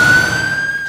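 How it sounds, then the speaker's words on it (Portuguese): An ambulance siren sounds loud and close in a short burst, a steady piercing high tone holding through the moment. "como a sirene de uma ambulância, por exemplo"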